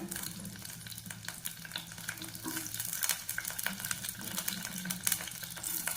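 Onions fry in hot oil in a clay pot, a steady close sizzle and crackle with faint stirring scrapes throughout.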